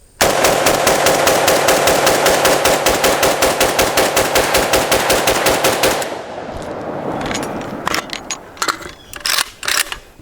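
AK47 rifle firing from an Xtech Tactical 30-round magazine: a long string of loud, rapid, evenly spaced gunshots for about six seconds, then the firing stops and scattered mechanical clatter and handling noises follow, close and alone.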